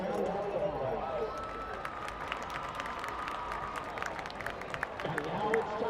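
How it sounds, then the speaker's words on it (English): Steady applause from a crowd at a high school football game homecoming fills the space, sustained clapping with a few faint cheers, over a murmur of voices. "Please give these fine young cadets a round of applause"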